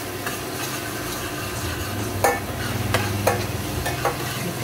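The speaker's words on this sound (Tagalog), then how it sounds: "at isunod na natin yung ating bawang" Garlic sautéing and being stirred in a pan for chicken adobo, a steady close sizzle with scraping utensil strokes and a few sharper clinks, no talking.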